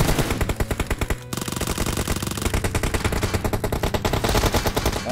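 Rapid automatic gunfire in PUBG Mobile, loud and close, in steady bursts of rhythmic shots that pause briefly before resuming, with no talk over it.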